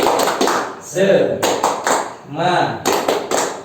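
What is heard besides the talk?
group clapping hands in rhythm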